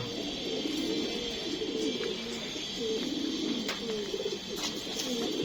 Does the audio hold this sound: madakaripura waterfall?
no